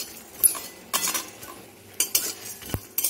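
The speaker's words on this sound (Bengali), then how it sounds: "1টা শুকনো লঙ্কা। এটা আমি শুকনো খোলায় ভালোভাবে ভেজে নেব।" A dry red chilli roasts in an ungreased pan, with sparse scrapes and light clinks of a spatula stirring against the metal at close range and quiet gaps between, no voices.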